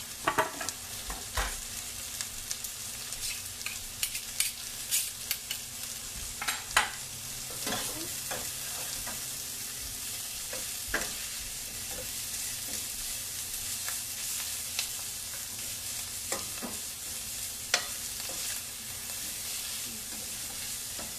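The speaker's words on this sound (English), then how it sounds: "So now we need to saute these onions till it gets little" Ginger and onion saute in a pan during a vegetarian cooking class, a continuous soft sizzle punctuated by frequent scraping and clicking of a spatula stirring against the pan, with no talking.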